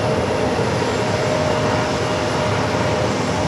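Boeing 737 MAX 9 airliner at JFK airport, a steady, loud broadband jet roar that holds constant throughout with no pauses or talk.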